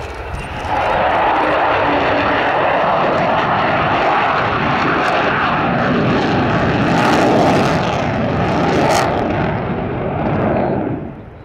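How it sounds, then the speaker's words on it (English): An Avro Vulcan bomber with four Rolls-Royce Olympus engines roars past at an air display, a loud sustained jet rumble and howl lasting several seconds with sharp crackling peaks near the end before it fades. "it's a unique Vulcan sound with the four Rolls-Royce Olympus engines"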